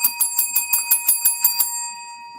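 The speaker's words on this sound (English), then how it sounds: "Oh, bells." Bells ring in a quick regular series of about ten bright clear strikes, then stop and leave a fading ring.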